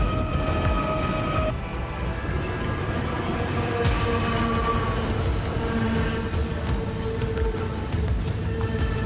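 A heavy 5,500-tonne steel freight train in the Australian bush, its steady low rumble and rolling wheel noise continuous and fairly loud, with faint tonal squeals drifting above throughout.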